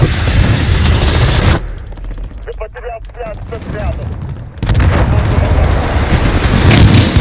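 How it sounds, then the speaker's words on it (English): Precision airstrike explosions and gunfire in Call of Duty: Modern Warfare Ground War, with loud sustained blasts and rattling fire that drop briefly into quieter rumble before roaring back, with voices talking over the battle. "Enemy precision airstrike."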